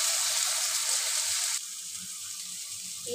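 Mustard-coconut paste with two slit green chillies sautéing in a pan makes a loud, bright sizzle that drops to a softer, steady hiss partway through, with faint stirring underneath.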